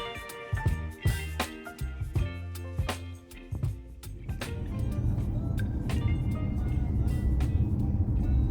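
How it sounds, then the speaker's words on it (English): Riding in an Uber car in Juneau, Alaska: a few sharp clicks and knocks at first, then a steady road and engine hum that settles in and continues to the end, with no one speaking. "We are riding the Uber from the visitor office to visitor information"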